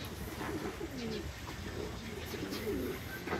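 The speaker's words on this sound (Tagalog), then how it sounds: "Ayan ang mga kalapati ko." Domestic racing pigeons coo softly from a rooftop loft: several low, rolling coos repeat at a moderate distance under a steady background hiss of outdoor noise.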